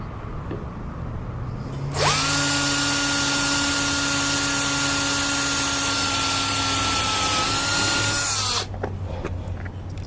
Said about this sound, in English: And we drill again.